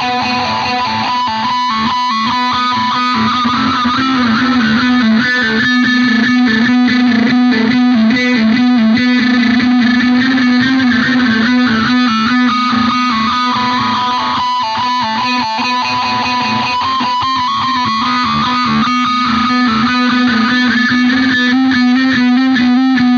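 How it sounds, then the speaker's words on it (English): Electric guitar run through a distortion pedal, loud and saturated with sustained chords and shifting notes over a thick buzzing tone, played continuously without any voice. "you then hit whatever distortion pedal you have, or from your amplifier"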